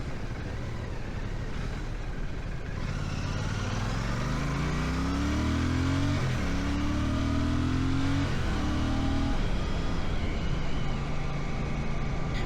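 The 650 cc engine of a 2025 Royal Enfield 650 Classic motorcycle rises and falls through the gears while lane-splitting, a steady mid-pitched drone climbing in pitch with shift dips, heard under constant wind and road rush.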